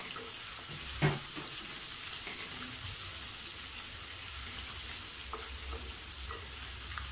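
Ginger sautés in hot oil with a faint, steady hiss and one soft knock near the start, close by and quiet with no voice.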